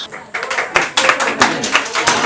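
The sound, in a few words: applause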